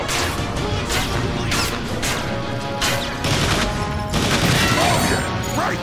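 Rapid gunfire and crashing impacts from the Transformers shooter game War for Cybertron, loud and continuous with whooshes and booms throughout.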